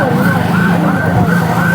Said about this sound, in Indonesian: Mobil ambulan silih berganti membawa korban yang mengalami luka-luka pada saat melakukan aksi unjuk rasa.